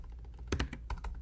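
Several quick keystrokes sound on a computer keyboard as text is entered into a file in the Atom editor. The taps come up close and fairly quiet in short irregular bursts, with no talking.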